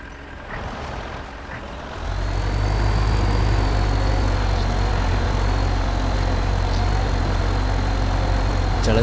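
Tractor engine pulling a stuck truck: a loud, steady low diesel drone that surges up after two seconds and holds, with faint higher whine above, no talk.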